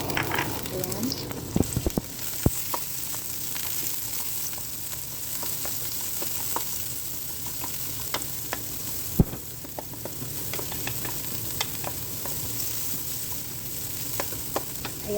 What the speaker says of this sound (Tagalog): gagamit tayo guys ng olive oil. Olive oil yung gamitin natin. Ayan. Garlic. Onion.